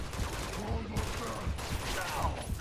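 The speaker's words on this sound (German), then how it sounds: "Von wo schießen die denn?" Gunfire in the video game Uncharted 2, a dense, steady barrage of overlapping shots with mechanical clatter running throughout, mixed with excited talk.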